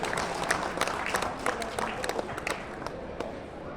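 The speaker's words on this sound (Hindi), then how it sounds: "जोरदार तालियां रेड्डी सर जी के लिए" At an award ceremony, an audience applauds recipient Shri Bhumadi Mahadev Reddy with a soft, distant patter of clapping, scattered sharper claps poking through a low steady crowd murmur.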